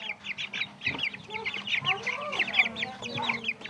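Chickens raised by schoolchildren at a Japanese school cluck and chatter in a busy overlapping flurry of short calls, moderately close, with faint voices mixed in.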